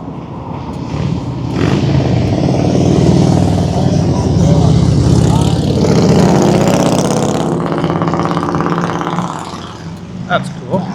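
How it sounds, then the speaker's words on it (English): A group of small miniature motorcycles passing by on a city street in Northeast Minneapolis, engines buzzing and revving loudly and close for several seconds before easing off, mixed with general traffic noise. "A little miniature motorcycle parade."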